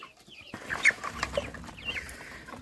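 Soft clucking and chirping from chickens close by, short scattered calls over a quiet rustling background.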